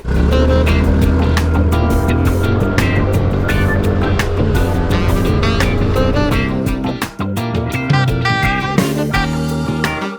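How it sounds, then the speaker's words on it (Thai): An Alpha Volantis Horizon 300 motorcycle accelerates hard from a standstill to 100 km/h, its engine note climbing through repeated gear-change steps, loud and close with wind noise, and no voices. "อัตราเร่ง0ถึง100ลองดูจากนี้ครับผม"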